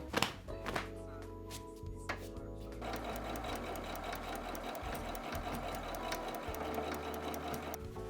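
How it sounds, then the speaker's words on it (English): A sewing machine runs zigzag stitches along the seams of customized jeans, starting with a few short bursts and then settling into a long, steady, rapid needle clatter nearby, with a faint voice at the start. "So I'm gonna send an extra zigzag stitch across them"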